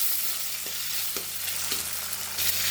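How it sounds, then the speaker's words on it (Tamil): Tomatoes and onions sautéing in a hot pan, a loud continuous sizzle with a few soft scrapes of stirring every half second or so. "நல்லா தக்காளி வெங்காயம் எல்லாம் நல்லா வதங்கட்டும்"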